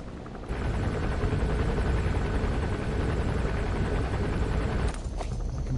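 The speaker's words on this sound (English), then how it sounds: "The helicopter gets on my nerves." Helicopter in the video game Metal Gear Solid V: a loud, continuous rotor drone with a dense low throb holds steady throughout, briefly dipping and shifting near the end, with no voices.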